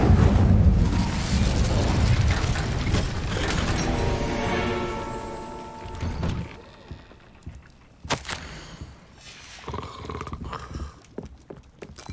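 Incendio fire spell cast in the Hogwarts Legacy video game, a loud roaring whoosh of flame that swells and then fades into scattered softer game effects.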